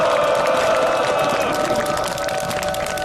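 A rally crowd of striking irregular workers from SK Broadband's union outside Uijeongbu prison applauds, giving a dense, steady wash of clapping and crowd noise that holds at an even level throughout.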